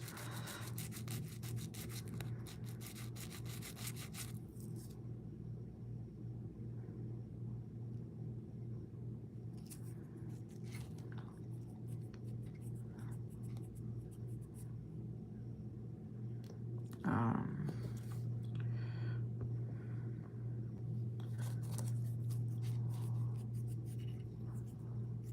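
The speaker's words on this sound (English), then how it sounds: "So you're just kind of meant to like sand this down." A model part is sanded by hand: scratchy rubbing strokes come close and busy for the first few seconds, then turn sparse over a steady low hum, with one brief knock later.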